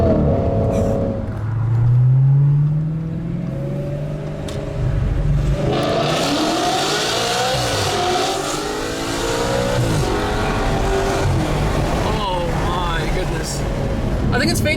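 A 2013 Audi R8's naturally aspirated V8 and aftermarket exhaust rev repeatedly, rising and falling in loud, close sweeps with a deep rumble, while people talk over parts of it.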